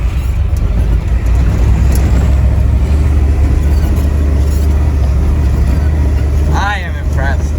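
A diesel Ford Highboy truck drives through snow on SDA Super Lug tires, its engine holding a steady, loud low rumble throughout, with a brief squeaky sound near the end.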